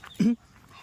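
A dog gives a single short whimpering yelp nearby, with quiet room sound before and after.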